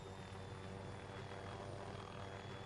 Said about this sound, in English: I wish these fucking helicopters weren't so fucking loud